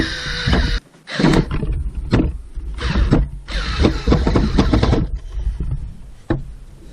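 Fanttik NEX L1 PRO cordless electric screwdriver set to torque 6 driving a screw, loud close motor whirs in repeated straining bursts broken by short pauses, with a grinding, growling edge as the bit bites.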